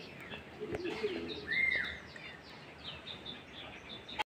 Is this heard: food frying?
no